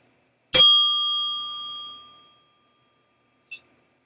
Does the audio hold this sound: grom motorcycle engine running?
no